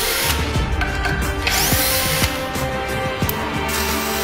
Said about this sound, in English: Unscrewing screws.